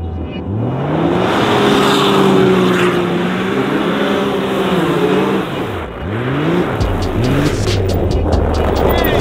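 A Can-Am Maverick X3 running with no exhaust on thin ice roars loud and close, its engine pitch climbing and falling through several revs, briefly dipping, then holding a harsh steady drone.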